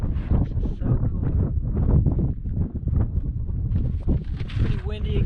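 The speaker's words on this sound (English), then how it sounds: "Pretty windy again." Strong wind buffets the microphone of a motorcyclist riding a KTM in the backcountry at Vermilion Cliffs, heavy, uneven gusts, a constant low roar throughout, with brief bits of voice near the end.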